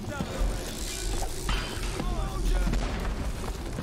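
Grenade explosion in Dishonored during a chase into a dead end, dense booming blasts and crunchy impacts over loud game music, with a voice talking over parts.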